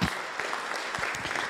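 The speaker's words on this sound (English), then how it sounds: "Let's give the Lord a clap offering." A church congregation claps together as a clap offering at a Sunday service, a dense, steady burst of many hands clapping at once, filling the room for a moment without talk.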